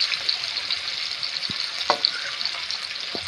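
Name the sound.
onions frying in a pan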